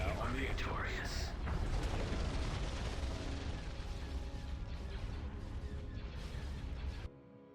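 Starship turbolaser barrages and explosions in the space strategy game Empire at War: Thrawn's Revenge, a loud, dense roar of blasts and zapping shots that runs continuously before cutting off abruptly near the end.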